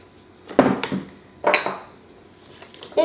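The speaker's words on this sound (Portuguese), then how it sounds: "Uma frigideira ao lume ou um tacho, o que vocês quiserem." A frying pan is set down on a stove with two sharp metallic clanks, about a second apart, close and bright, followed by quieter handling.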